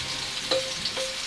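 Vegetables and potatoes sizzle in a hot pan alongside filet mignon, a steady close frying hiss with a couple of brief clinks and spikes, no talking.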